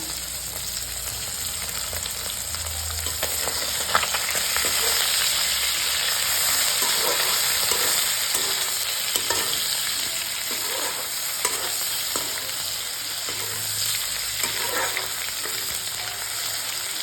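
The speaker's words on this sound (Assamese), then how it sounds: "এই পিঁয়াজকেইটাও মই ইয়াতে দি দিলোঁ এতিয়া ভালদৰে লৰাই ল'ম" Fish and onion frying in a wok (kerahi) for a traditional Assamese rice thali, a continuous close sizzle with intermittent scraping and clinks from stirring throughout, no voices.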